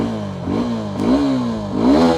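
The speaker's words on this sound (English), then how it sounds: "Let's check it out how it sounds." A Suzuki Gixxer SF 250 with a twin muffler exhaust is revved close up, with three throttle blips rising and falling over a steady idle in about two seconds.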